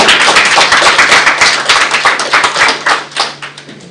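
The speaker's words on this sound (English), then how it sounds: "Some claps from the team" A team claps together at a report launch for Kenya's apparel and footwear industry, a brief loud burst of applause that thins into scattered claps and fades out near the end.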